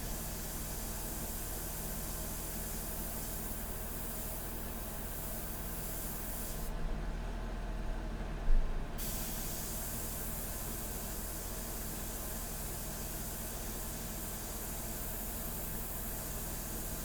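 An airbrush sprays India ink in a steady, soft, continuous hiss that runs throughout, briefly changing tone midway, with no talking.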